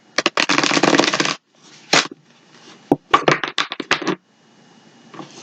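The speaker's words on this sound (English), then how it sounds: "One more shuffle." Tarot cards are shuffled in several quick riffling bursts, crisp and close, with brief pauses and tapping between the shuffles.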